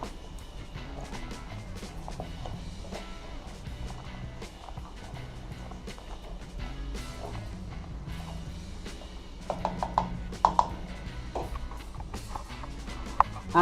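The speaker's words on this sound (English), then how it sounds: "Now I'm going to stir." Jamaican rice and peas being stirred in a pot, with irregular soft scraping and clicking knocks of the spoon against the pot over several seconds, growing a little sharper toward the end, with little talk.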